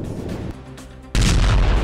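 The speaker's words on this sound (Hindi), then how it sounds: "माइनफील्ड की चपेट में आने से रूसी टैंक धमाके के साथ तबाह हो गया" A Russian tank hitting a mine on a minefield during the Russia–Ukraine war, heard as rumbling booms that build into a heavy, loud blast with deep low-end roar.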